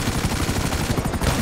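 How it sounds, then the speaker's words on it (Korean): Rapid, dense burst of heavy gunfire from an attack helicopter's cannon in GTA 5 Online, a fast rattling barrage with thumping low end, loud and continuous over the whole moment, with no talking. "저 포 쏘는 거 무서워"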